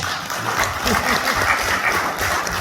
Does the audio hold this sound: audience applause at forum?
yes